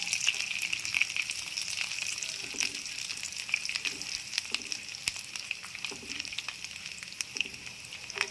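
Cashews and ginger frying in hot oil in a pan while cooking Andhra-style upma, a steady close sizzle with scattered crackles and pops running throughout, no talk.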